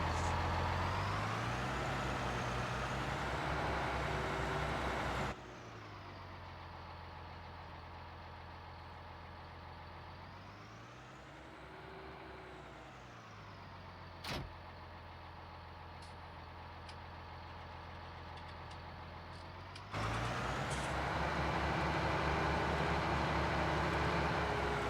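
A brown tractor's engine in the Farming Simulator 19 game drones steadily, its pitch rising and falling as it revs. It runs loud at first, turns muffled and quieter through the middle with one brief click, then returns loud at the end, with no talking.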